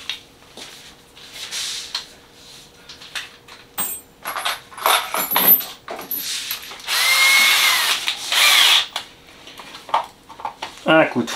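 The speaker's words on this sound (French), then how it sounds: "Un coup de fraise." A power drill whirs in short bursts, then runs steadily while countersinking a screw hole for a flat-head screw in a servo mount on an XRT RC model, with speech between bursts and nearby ratcheting clicks.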